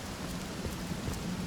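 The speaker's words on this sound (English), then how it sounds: "You made it rain." Steady rain in the Divinity Original Sin video game, a dense continuous hiss of falling water with faint low rumbles, even and unbroken throughout.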